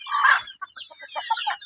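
Chickens at a poultry farm give a sharp squawk followed by a quick series of soft clucks, close by and alone against a quiet background.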